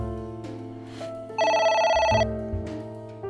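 A telephone rings inside the video game AI: The Somnium Files, a bright electronic trill that breaks in loudly over the game's background music for under a second and then cuts off.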